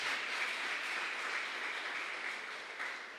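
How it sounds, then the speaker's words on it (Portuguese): A church congregation applauds during a sermon on holiness, a soft, steady wash of many hands clapping, heard at a distance and fairly quiet. "Vocês podem aplaudir o Senhor?"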